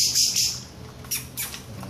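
A pale-breasted thrush (sabiá-poca) gives several harsh, short squawks while fighting another bird. The bursts are quick, sharp and close, with no talk.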